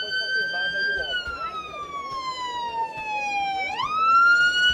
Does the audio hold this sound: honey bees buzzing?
no